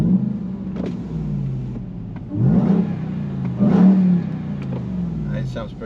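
2021 Ram TRX pickup engine rumbling and revving, loud deep throbbing swells with two strong rev surges over a steady idle.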